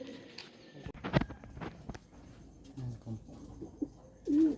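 Racing pigeons back from a road training toss in Lopez, Quezon coo softly near the loft, scattered low calls among light footsteps and rustling, with one fuller coo at the end.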